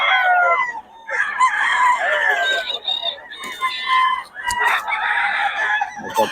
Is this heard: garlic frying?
no